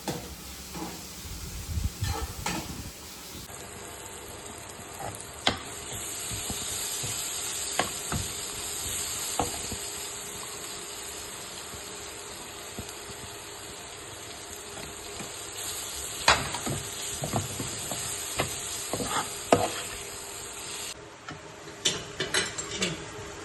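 Onions, tomatoes and green chillies sautéing in a pan for a dried fish curry, a long steady sizzle broken by scattered clicks and scrapes of stirring, close and moderate in level, with no talking.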